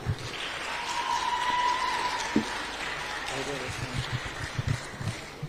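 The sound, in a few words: applause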